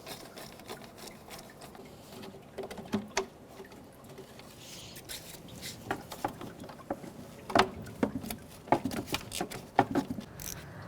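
A ratchet with a 10mm socket removes the electric fan bolts on a 1997-2004 Dodge Dakota, giving up-close, intermittent bursts of sharp clicking with quiet gaps between them.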